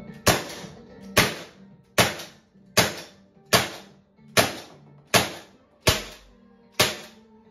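Nine sharp shots from a Lancer Scorpion .50 caliber CO2 less-lethal pistol, evenly spaced about a second apart, each a loud crisp crack with a short decay.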